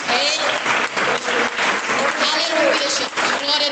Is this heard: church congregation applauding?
yes